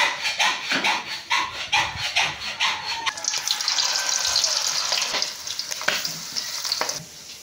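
Hot cooking oil fries in a pan close by, a bright, steady sizzle that swells after a few seconds and carries through to the end, with some scraping and stirring knocks in the opening seconds.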